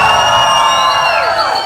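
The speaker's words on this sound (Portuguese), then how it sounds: "Olha o grito da galera aí" A crowd at a church worship event shouts and cheers together, a loud, sustained wash of many voices with high whoops riding on top for the full stretch.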